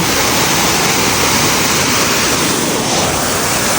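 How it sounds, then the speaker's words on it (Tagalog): A rocky waterfall roars close and loud, a dense, unbroken rush of falling water filling the whole clip with no voices. "pupunta nga pala ako dito sa may waterfalls"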